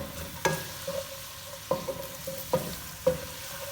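Two small curry leaves sauté in hot oil with a soft, quiet sizzle, broken by four or five sharp clinks and scrapes of a spoon against the pan.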